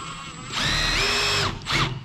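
A power drill whines loudly, revving up for about a second, pausing briefly after hitting something hard, then spinning again in a short second burst.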